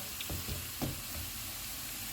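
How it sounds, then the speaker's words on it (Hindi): Onion and garlic frying in a pan, a soft steady sizzle with a couple of faint stirring scrapes, fairly quiet and with no voices. "प्याज फ्राई हो गए हैं, इसमें लहसुन डालेंगे। इसको 1 मिनट तक फ्राई करेंगे।"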